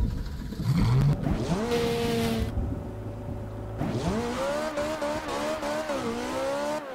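A Ferrari in the Garry's Mod video game drives through a tornado, its engine revving loudly with rising and falling pitch as it shifts gears, while tires squeal and wind roars underneath.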